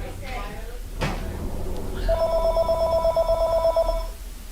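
A telephone rings with a steady, pulsing electronic tone that starts partway through and repeats rapidly for about two seconds, fairly close and clear above a low background hum.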